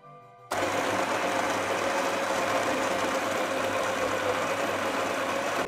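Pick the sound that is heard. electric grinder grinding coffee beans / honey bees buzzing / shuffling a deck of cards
electric grinder grinding coffee beans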